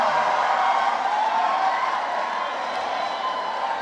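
Crowd at a Golkar party event cheering and clapping for a special presidential envoy, a continuous loud wash of applause and voices that eases slightly toward the end.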